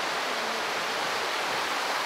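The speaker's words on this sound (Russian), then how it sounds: "Вот она горная река." Steady, broadband rushing of a fast-flowing mountain river near the Dombay or Elbrus ski resorts, continuous and fairly close, with no voices or other sounds.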